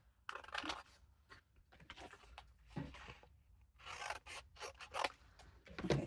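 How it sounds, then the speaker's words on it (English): Scissors snipping and rasping through paper while fussy cutting around a printed figure for a papercraft tri-fold, a close, quiet series of irregular cuts and rustles with no talking. "I'm going to just fussy cut this gal here"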